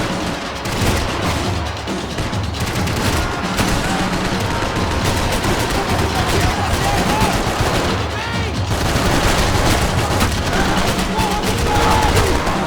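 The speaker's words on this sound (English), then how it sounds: "I can't concentrate with bullets whizzing past my head." Sustained loud gunfire in the action shooter Max Payne 3, dense overlapping shots and automatic bursts with occasional bullets whizzing past, continuous throughout with game sound and voices mixed underneath.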